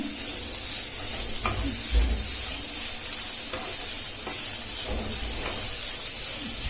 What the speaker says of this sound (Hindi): इसको हम तेज़ आंच में ज़रा पकाएंगे, थोड़ा सा भूनेंगे।